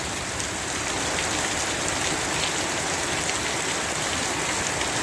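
Heavy monsoon rain pours down during a tropical storm, a dense, loud, unbroken hiss of drops with no let-up.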